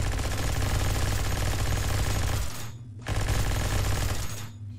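A minigun fires in Project Stray as a long, loud, continuous buzzing burst that stops, then starts again for a second sustained stream of rapid fire, with no talking.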